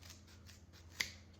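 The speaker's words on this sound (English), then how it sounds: "I'm just going to run my scissors up to where the crease is, and I'm going to cut through" Scissors snip once through a folded kitchen sponge along its crease, a single sharp, close cut in an otherwise quiet room with a low steady hum.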